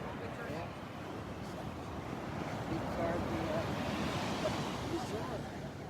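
Big overnight Gulf of Mexico waves breaking on the beach at Naples, Florida, a steady broad wash of surf with wind buffeting the microphone throughout, the roar holding fairly constant and swelling slightly midway.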